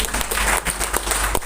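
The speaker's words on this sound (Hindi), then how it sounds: "एक बार जोरदार ताली हो जाए।" Loud, dense applause from an audience at a company ambassador program event in Digha, a continuous wash of clapping with no pauses.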